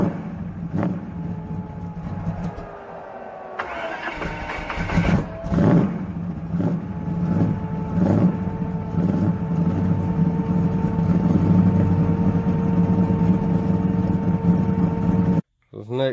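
1966 Chevelle Malibu with a 327 V8, running loudly nearby with a rough steady rumble and some revving early on, while someone talks over the engine.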